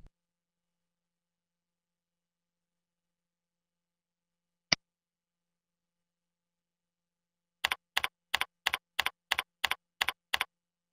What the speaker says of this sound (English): Enter a password.